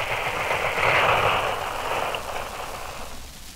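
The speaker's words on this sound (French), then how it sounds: "Vous entendez les coups de feu qui sont tirés par des batteries" Sustained rattling gunfire from artillery batteries during the Liberation of Paris, a dense continuous burst of shots heard alone without voices, loud and somewhat distant with a washed-out, crackling tone.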